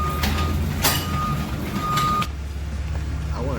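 Steady, loud reversing beeps from a tow truck backing into a tight spot, with the diesel engine rumbling underneath; the beeping cuts off partway while the engine keeps idling.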